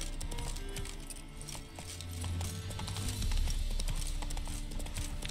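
Horse hooves clip-clopping at a steady pace in The Witcher 3: Hearts of Stone video game, a continuous rhythmic clatter over dense game ambience and low rumble.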